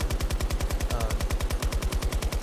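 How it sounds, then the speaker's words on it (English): Rapid automatic gunfire in the shooter game Battlefield 2042, a steady fast train of deep, punchy shots running continuously and loudly without any talk. "I tested out the gun sounds. The gun sounds are pretty deep, it sounds pretty good."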